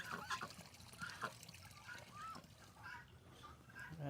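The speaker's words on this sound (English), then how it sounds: "Little duck friends, gonna hang out in the sun." Ducks quacking and honking softly at an animal sanctuary, faint and somewhat distant in a few scattered calls over a low outdoor background with trickling water.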